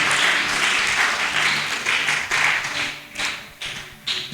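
A church congregation applauds to acclaim the Lord, with dense, loud, sustained clapping that pulses in waves and thins out toward the end.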